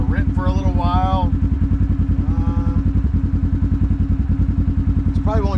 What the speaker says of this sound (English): so you guys can just hear the engine